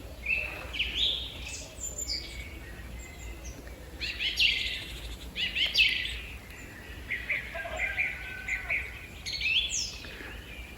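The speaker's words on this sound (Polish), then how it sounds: "Kogut już pieje." Birds call and chirp repeatedly around a rural homestead on a spring morning, with a rooster crowing among them, in bright bursts over a quiet outdoor background.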